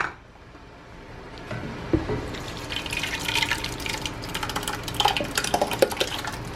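Food being dumped into a pan for home-canned pizza sauce, with wet sloshing, plopping and clinks of utensils against cookware, growing busier after a quiet start.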